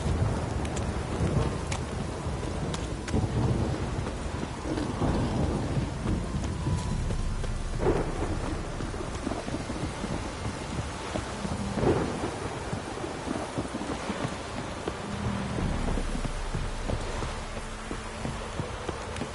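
Steady rain pours down in The Witcher 3 video game while low thunder rumbles roll through, a constant close hiss of rainfall with deeper swells of thunder.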